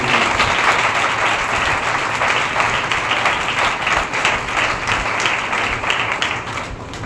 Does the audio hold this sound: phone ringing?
no